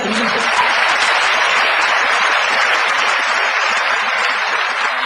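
An audience at a university lecture in Korea applauds, a dense and steady clapping that stays loud throughout with no pause.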